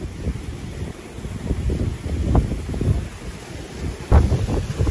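Strong storm wind at sea buffets the microphone during a fishing trip, a low rumbling roar that swells in uneven gusts, loudest near the end, with no clear talk.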